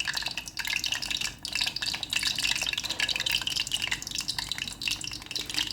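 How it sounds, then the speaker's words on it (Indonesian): Pempek kapal selam, a Palembang snakehead fishcake, fries in hot oil with a dense, steady crackle and sizzle, close and fairly loud, with small popping bursts and no talking. "Minyak sudah panas, saya goreng"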